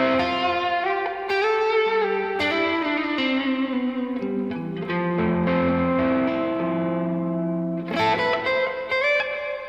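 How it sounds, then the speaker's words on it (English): Reverb patches from an HX Effects multi-effects unit colour a sustained electric guitar line of held notes and chords, with long shimmering tails and echoing decay ringing out between phrases, alone without talk. "here's a couple of reverbs from the HX effects"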